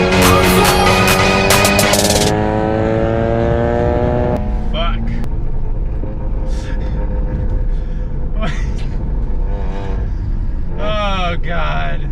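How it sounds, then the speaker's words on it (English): A Mazda RX-7 with a rotary engine cruises with a loud, buzzing drone that rises and falls in pitch, with people talking and shouting excitedly over it. "this is a perfect RX-7 cruise"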